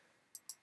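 Two crisp mouse clicks land about a fifth of a second apart, close and quiet, as the clone button is pressed on a GitHub repository page.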